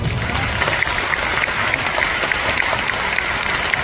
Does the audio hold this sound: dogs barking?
no